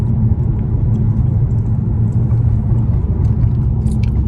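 Audi A6 fitted with a Magnaflow catback exhaust accelerating lightly, a deep, steady low rumble with droning exhaust tone at close range, no voices.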